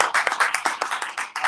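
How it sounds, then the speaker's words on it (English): Church congregation at a Sabbath service clapping in a quick irregular burst of applause, brisk and fairly close, lasting a couple of seconds with no talk. "let's give the Most High a round of applause"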